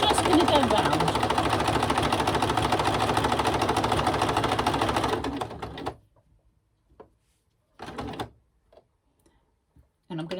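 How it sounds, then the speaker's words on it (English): A sewing machine runs continuously in zigzag stitch around a fabric junk journal cover for about five seconds, then stops, leaving only a few short mechanical bursts amid quiet. "I'm going to do it in zigzag. So I'm just going to go round."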